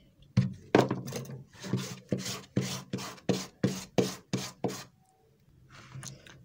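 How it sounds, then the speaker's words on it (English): Glue is brushed onto a leather shoe sole in a quick series of about ten rhythmic, scratchy strokes close to the microphone, with a brief pause before a few softer strokes resume. "I apply gum."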